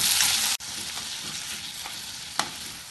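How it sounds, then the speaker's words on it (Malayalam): Chopped onions and tomatoes sauté in a pan with a loud, steady sizzle. A sharp clack early on and a scrape of stirring later stand out against the frying, with no voices. "ഈ ഉള്ളി വാടി തുടങ്ങുമ്പോൾ ഇതിലേക്ക് 2 തക്കാളി മുറിച്ച് ചേർക്കാം. വളരെ ചെറുതായിട്ടാണ് മുറിച്ചെടുത്തിട്ടുള്ളത്. ഇതിനെ ഇളക്കി വഴറ്റാം."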